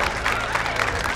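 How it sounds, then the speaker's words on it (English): Applause from a gathered audience at an evening welcome, a brief dense burst of clapping that sounds near and steady, with murmuring crowd noise underneath. "Give him a round of applause."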